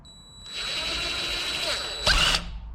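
A cordless drill drives screws into a door knob and deadbolt lock combo, a close whirring motor that ramps up and holds, then ends in a brief louder burst as the screw seats.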